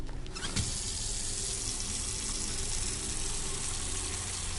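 Water pours steadily into a container in the video game MHW, a continuous broadband rushing that stays loud and even throughout, with a brief splash near the start.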